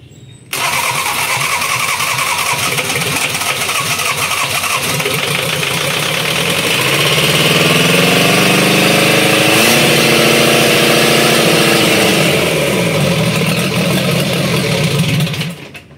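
A Mercedes-Benz C240 engine cranks, catches and settles into a loud, steady idle close by, with a slight change in tone partway through and no talk over it.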